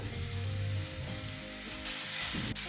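A mixture of spices and radish for mooli paratha is stirred in a hot pan. It gives a short burst of steady sizzling, with a brief scrape and a slight lift in loudness near the end.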